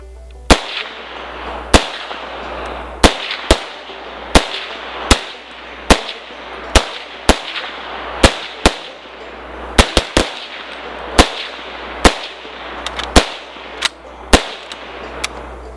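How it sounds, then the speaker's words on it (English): Sharp M1 Carbine rifle shots with a long radius peep sight, fired outdoors in an irregular string of about twenty loud cracks with short gaps and a few quick doubles, each trailing into brief reverberation. "Bob, just shooting this, I forgot how much I like a long radius peep sight for shooting up close"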